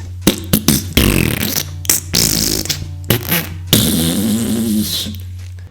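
A voice imitates a fart noise, producing long, loud, buzzing raspberry bursts that sputter on for several seconds with brief breaks.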